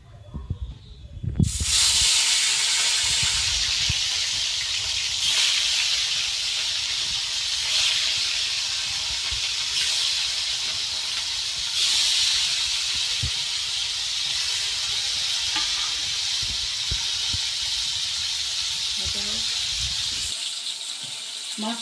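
Fish pieces hit hot oil with a sudden loud hiss that settles into a steady, close, crackling sizzle with faint pops, lasting until the sound cuts off near the end.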